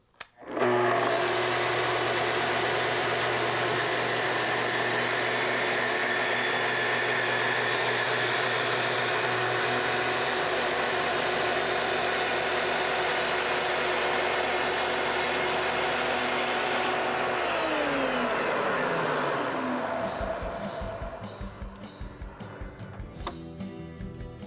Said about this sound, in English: To make your cut, plunge in slowly all the way down and advance forward until you reach the end.